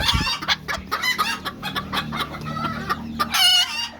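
A hen clucks over and over near the microphone on a chicken farm, a fast run of sharp calls that ends in a louder, drawn-out squawk.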